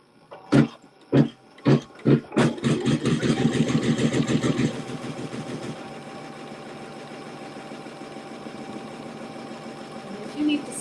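A sewing machine stitches quilt fabric at slow speed for a mystery quilt block, starting with a few separate thumps, then settling into a steady rapid chatter that fades into a lower hum, close by.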